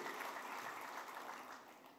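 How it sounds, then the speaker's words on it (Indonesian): A church congregation gives the Lord a loud round of applause during a Christian sermon, a dense, steady wash of clapping that fades slightly toward the end. "Berikan tepuk tangan yang meriah buat Tuhan."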